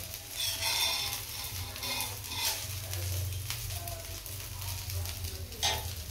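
Steady sizzling of dosa on a hot cast iron griddle with occasional scraping and clinks of a utensil, no voices.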